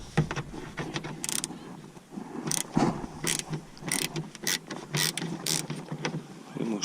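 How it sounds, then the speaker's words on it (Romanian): A ratchet fitted with an 8 mm socket loosens bolts on a BMW E60 during a parking sensor replacement, giving short, close bursts of rapid clicking separated by brief pauses. "Acest tub de 8 voi deșuruba șuruburile"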